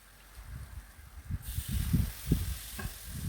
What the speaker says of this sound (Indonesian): Kemudian saya tuangkan air biar gak gosong.